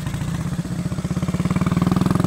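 A motorcycle engine runs with a steady rhythmic thump that grows louder and more pronounced over a couple of seconds, heard alone without voices.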